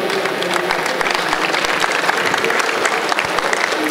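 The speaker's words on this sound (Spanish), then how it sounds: "Le damos un aplauso" A tech conference audience applauds a speaker about to give a talk on selling an API, a loud, dense burst of clapping sustained throughout without voices.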